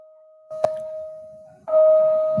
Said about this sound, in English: Bell's going off here.